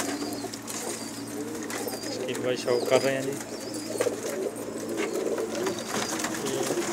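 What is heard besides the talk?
pigeons cooing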